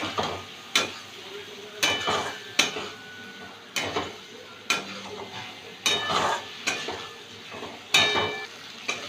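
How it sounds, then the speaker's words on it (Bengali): Spice paste of chopped green chilli, turmeric and a splash of water sautéing in a pan, with regular loud clanks and scrapes of a spatula against the pan over a steady sizzle, no voices. "মশলাটা একটু কষিয়ে নেব।"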